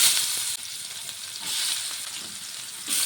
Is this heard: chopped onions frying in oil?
yes